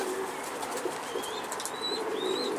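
Racing homing pigeon chick giving soft coos and thin rising chirps, close by, over a faint background hum with some light rustling of wings.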